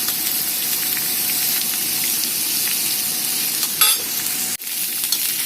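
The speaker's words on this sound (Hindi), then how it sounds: "तेल हमारा गर्म हो चुका है। अब हम इसमें काले चने ऐड करेंगे।" Boiled black chickpeas frying in hot oil, a dense continuous sizzle up close with a short sharp clatter near the end, no talking.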